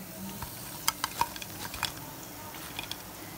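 Chicken pieces for a zinger roll fry in a pan, a quiet sizzle broken by several light clinks and scrapes as they are stirred and moved.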